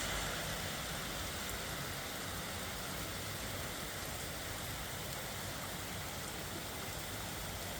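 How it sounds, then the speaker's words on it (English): Steady outdoor rain falls with a dense, even hiss, close and continuous, with no voices over it. "Isn't that a beautiful rain?"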